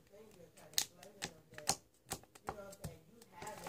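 Paper being folded and creased into a fortune teller: a string of crisp taps and rustling presses at an uneven pace, close by, with soft talk underneath.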